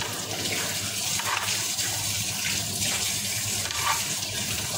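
A kitchen tap runs steadily as a knife is washed, giving a constant broadband rush of water with small splashing shifts. No one speaks.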